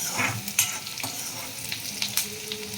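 Onion sautés in a pan over medium gas with a lively, close sizzle and repeated scraping and tapping from a stirring spoon. There is no speech.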